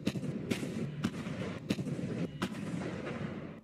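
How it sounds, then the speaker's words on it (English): An M109 self-propelled howitzer with a 155mm cannon firing repeatedly, several sharp blasts at irregular intervals over a rumbling background, fairly distant. "The M109 howitzer helps the U.S. Army accomplish this mission through mobile long-range indirect fire"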